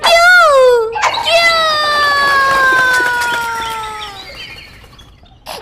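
A cartoon turkey hen gives a quick rising-and-falling call, then a long, loud, harmonic squawking cluck that slowly fades over several seconds, with no talking.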